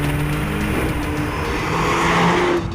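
A Mercedes-Benz CLA 45 AMG with a 2-litre turbocharged engine drones steadily, heard muffled from inside the insulated cabin as the revs rise slightly, with no talk over it.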